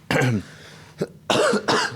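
Several harsh coughs in quick bursts, close to the microphone, with short pauses between them.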